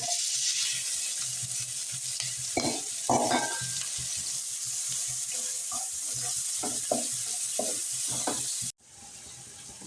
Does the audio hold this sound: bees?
no